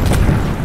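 A sudden, loud explosion, a heavy booming blast that fills the whole moment with rumbling noise before easing off slightly.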